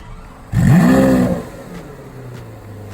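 A Lamborghini accelerates hard in one loud, close burst that rises in pitch and then fades into a low idle hum, with no speech.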